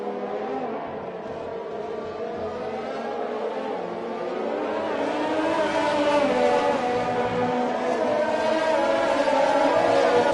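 F1 race cars from a video game race at the British circuit, with a continuous high engine whine that rises as the cars accelerate and swell closer.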